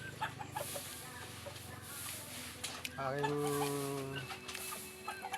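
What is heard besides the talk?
rooster and chickens clucking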